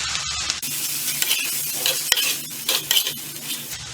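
Cooked dal being stirred and crumbled in a pan for vazhaipoo (banana flower) paruppu usili, giving a close, steady scraping and rustling of a spoon against the pan with a faint sizzle underneath, no talk.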